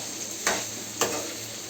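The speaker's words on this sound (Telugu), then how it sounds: "అండ్ ఇప్పుడు దీంతోనైతే ఒకసారి మిక్స్ చేయాలి" Vegetables fry with a steady, close sizzle in a pan on a home stove while being mixed, with two distinct stirring scrapes cutting through the hiss.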